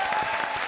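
Studio audience applause on the Comedy Circus TV comedy show; a short, loud burst of dense, continuous clapping from a crowd, with no talking over it.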